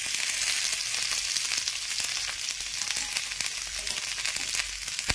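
Chopped ivy gourd (tondli) frying in hot oil with cumin and mustard seeds, a steady close sizzle with sharp crackles and pops scattered throughout, no voices.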